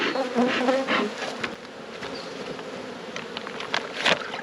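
Honey bees buzz steadily around an open hive in an Australian apiary, a dense close swarm drone with individual bees passing near, while a soft voice talks briefly at the start.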